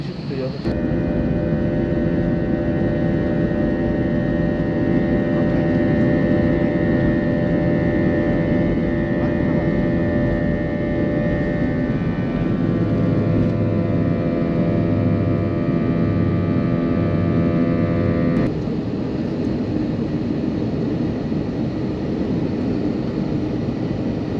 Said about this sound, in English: let's get ready for takeoff